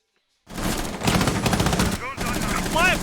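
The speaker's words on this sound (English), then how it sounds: "Maestro will try to shoot through the smoke" Rapid bursts of gunfire from a Rainbow Six Siege esports match, with Maestro's light machine gun shooting through smoke amid chaotic fighting, loud and continuous, mixed with game effects and a commentator's voice talking over it.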